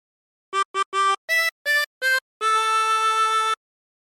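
Jingle Bells phrase on a 16-hole tremolo harmonica: six short wavering notes in quick rhythm, then one long held note, clear and close with no voices.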